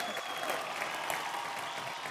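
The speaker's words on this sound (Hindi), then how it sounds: "जोरदार तालियां हो जाए।" Studio audience clapping on an Indian folk singing reality show, a dense, fairly distant patter of many hands continuing evenly, with no talk over it.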